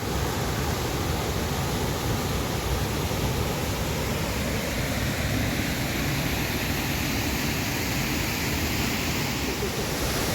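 A waterfall near Clydach in Wales gives a steady, dense roar of rushing water, loud and unbroken throughout, with no voices over it.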